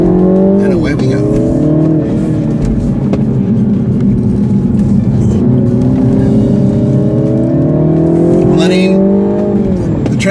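A small car accelerates hard with traction control left on, its engine note rising and shifting through gears in a loud, steady cabin drone, with a driver speaking over it at times.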